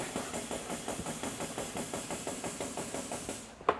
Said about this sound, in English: Rinse that media down inside the cabinet.